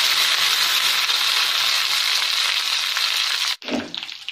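Mustard seeds, two dried red chilies and curry leaves sizzle in hot oil for a ridge gourd and toor dal curry: a loud, steady hissing crackle that stops abruptly, followed by a short clatter.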